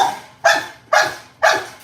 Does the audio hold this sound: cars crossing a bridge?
no